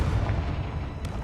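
Confringo fire blast spell in Hogwarts Legacy, a dense, continuous fiery roar with heavy low rumble and crackle, loud and close throughout the short burst.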